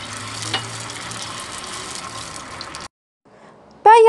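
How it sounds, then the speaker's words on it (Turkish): Tomato sauce sizzling in olive oil in a pan, a dense close crackle for almost three seconds that cuts off abruptly, followed by near silence, a faint rustle and a brief bright clatter at the end. "Üzerine 3 yemek kaşığı kadar da domates sosu koyuyorum. İyice kızdıralım."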